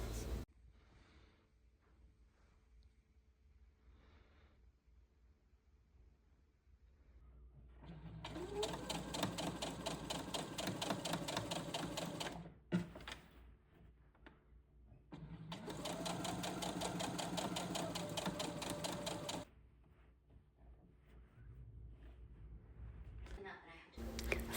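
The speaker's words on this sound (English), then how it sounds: "Sew that down just over the stitch line." Sewing machine stitching the lining of a top, two loud, steady bursts of rapid mechanical chatter a few seconds each, separated by quiet pauses with small handling clicks and fabric rustle.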